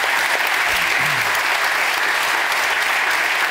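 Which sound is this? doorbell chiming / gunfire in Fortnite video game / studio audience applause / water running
studio audience applause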